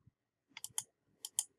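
A computer mouse clicks the Add button on a calendar screen: a handful of soft, quick clicks in two small clusters, faint and close, with no talking.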